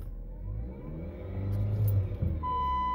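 A 2011 Jeep Patriot with a failing CVT transmission strains to move off in drive, its engine droning and rising in a steady low rumble, close and fairly loud, with no talk.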